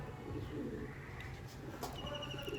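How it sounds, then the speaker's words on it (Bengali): Andhra Lambadi pigeons at a loft coo softly and steadily, a low murmuring drone with a few faint chirps over it, no talk. "আপনারা পায়রা দেখুন, পায়রার কোয়ালিটি দেখুন।"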